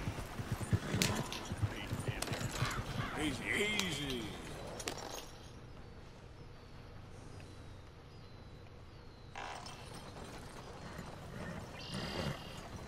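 Horse hooves clip-clop in the Red Dead Redemption 2 video game, a steady rhythm clearest in the first few seconds, then quieter, with someone speaking over it.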